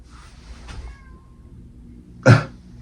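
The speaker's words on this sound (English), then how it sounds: "my cat was meow" Indoor cat giving a short meow near the middle, followed by a louder, abrupt close sound at the end, with quiet room noise between.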